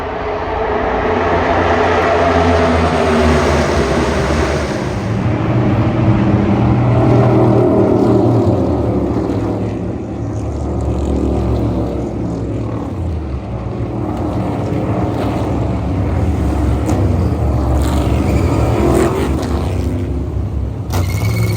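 Loud, continuous engine roar from race cars speeding past, the pitch rising and falling as they sweep by without pause.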